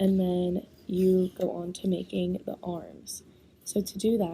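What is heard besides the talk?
None of the usual background noises is heard.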